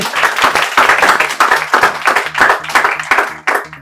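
Students at a Patiala computer institute clap for a girl, a close, loud burst of hand claps in a fast, slightly uneven rhythm lasting several seconds from a small group.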